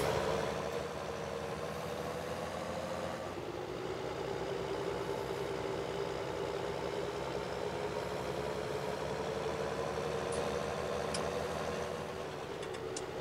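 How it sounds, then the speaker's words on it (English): A farm tractor engine idling steadily nearby, a constant low rumbling hum that holds for the whole stretch with a few faint clicks near the end. "Go ahead and park the tractor."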